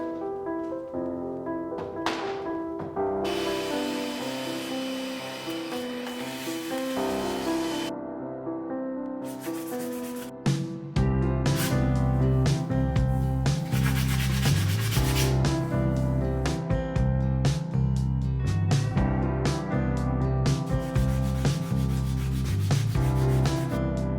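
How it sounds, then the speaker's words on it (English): Hand sanding over heavy paint runs on a vintage wooden sideboard, a steady continuous rubbing and scratching that runs throughout, louder and fuller in the second half, with no talk. "I'm going to lightly sand on those heavy runs"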